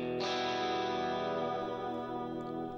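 A sustained, distorted electric guitar chord from an amp simulator plugin rings out loudly, washed in springy reverb and echoing delay that trails on as the note slowly decays.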